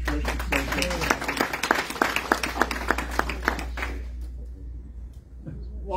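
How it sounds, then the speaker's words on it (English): A church congregation claps together for about four seconds during a Sunday Mass, the sharp, fairly close claps running in a steady rhythm against a low hum. Afterward the clapping stops and only quiet room noise and faint stirring remain. "So we're clapping for memories"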